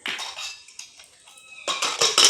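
Potatoes, salt and a little mustard oil go into a pressure cooker with clattering metal: scattered clinks and scrapes, then a louder burst of rattling dish and utensil knocks near the end, close and without talk.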